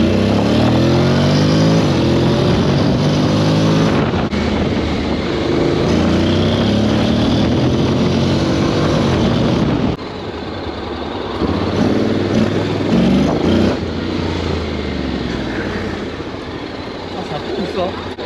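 A 2022 X-ADV 750 maxi-scooter engine revs and pulls hard in sport mode, loud and close, with wind rush and a rider talking over it.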